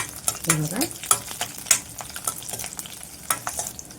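Green chillies sautéed in a pan give a close sizzle broken by repeated scraping stir strokes and short clatters, loud and uneven throughout.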